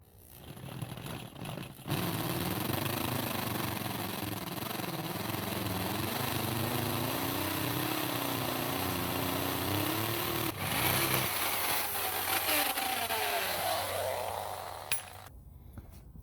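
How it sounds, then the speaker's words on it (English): A large masonry bit drilling holes for 5/8-inch wedge anchor bolts into a concrete slab for a shop's sill plate installation, with loud continuous grinding that rises after a brief start and runs about thirteen seconds before stopping. "Let's see how well this big bit goes."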